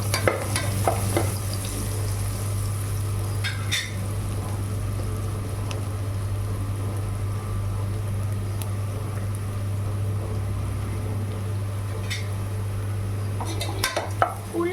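Onions with turmeric being stirred in a pan for vegetable biryani: continuous frying sizzle over a steady low hum, with occasional metallic clinks and scrapes of a spoon against the pan, loudest near the start and end.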